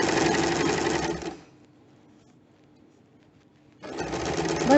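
A sewing machine stitches fabric along a square neckline during home tailoring, running loud and close for about a second, falling silent while the cloth is turned, then whirring again.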